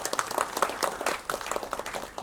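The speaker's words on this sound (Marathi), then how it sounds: "मच्छिंद्रसाठी टाळ्या होऊ देत पहिल्यांदा" An audience applauding the writer at a film trailer launch event, a short burst of lively hand clapping from a crowd, close and fairly loud.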